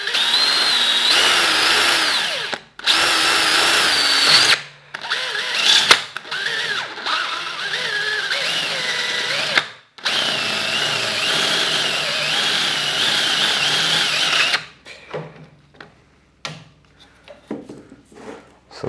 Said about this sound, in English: Okay, let's take the safer path and drill over here.